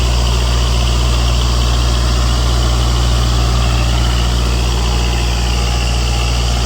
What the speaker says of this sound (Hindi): ट्रैक्टर बिल्कुल भी पता नहीं देके चल रहा है, बिल्कुल ऐसा चल रहा है फ्री जैसे कोई लोड ही पीछे ना चल रहा हो इसके